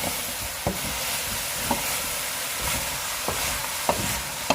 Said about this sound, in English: Just going to stir that in.